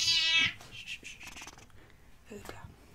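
A house cat lets out a loud, drawn-out meow close by, followed by softer chirps and small sounds, with a voice speaking quietly.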